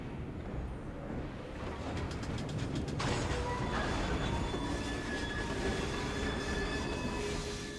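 A Victorian-era steam train in the Assassin's Creed Syndicate game rumbles continuously, with a burst of rapid rhythmic clacking and a rise in loudness partway through, followed by sustained rolling noise and faint high squeals.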